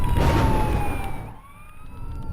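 An emergency siren wails loudly with a sweeping tone that gradually fades and shifts pitch, mixed with broad traffic noise.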